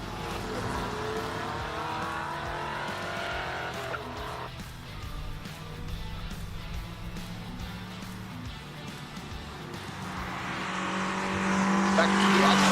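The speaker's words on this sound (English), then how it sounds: "We've got cars on track now, so let me stop talking and let the cars do the talking." Classic race cars at the SIMOLA hill climb during Classic Car Friday practice, engines droning steadily throughout with a rising, louder pass near the end, some faint talk in the background.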